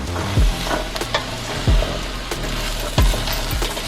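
Vegetable filling for a vegan pot pie sizzles steadily in a pan over medium-high heat, with several sharp scraping knocks as it is stirred and tossed; no voices.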